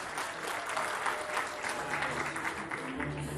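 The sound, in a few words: applause at a university ceremony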